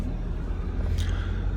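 A car creeping slowly over rough, uneven ground on the way to a fishing spot, producing a continuous low engine rumble with a brief rattle midway.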